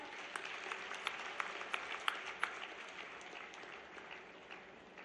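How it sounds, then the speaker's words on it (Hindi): Large crowd applauding at a panchayat conference in a big hall, a distant, even roll of clapping with a few sharper individual claps standing out, continuing steadily with no talk. "आप लोग उसी अनुपात में जोरदार तालियां भी बजाएं।"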